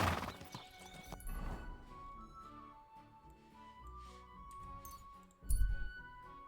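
Horse in the video game Kingdom Come: Deliverance 2, hooves clopping and a whinny near the start, then quieter hoofbeats and jangling tack, ending with a louder burst of hoof and gear noise.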